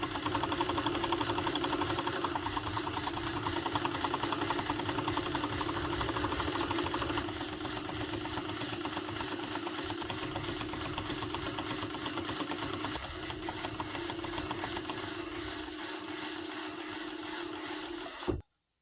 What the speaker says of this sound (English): I will do the rest with the overlock machine